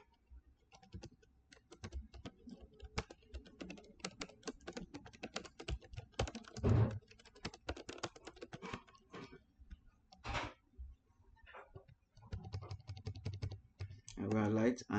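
Keys clatter in quick irregular bursts as someone types on a computer keyboard while designing a letterhead, sounding close and clear with short pauses between runs of keystrokes.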